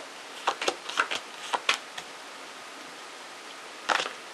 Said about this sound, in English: Giving the cards another quick shuffle